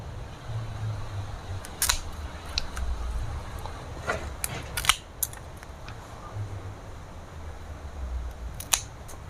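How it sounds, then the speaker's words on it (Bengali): Sharp, crisp snips of pruning shears cutting branches from a potted rose plant, scattered irregularly over a steady low background hum, with no talking. "গাছ তো কিছুটা উপর থেকে আমি ডালগুলোকে কেটে দিচ্ছি"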